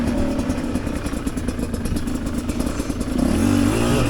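Chinese dirt bike with a six-speed gearbox, engine thrumming loud and close as it rides off, pulsing steadily before the pitch rises and changes near the end with a gear shift, no talking over it.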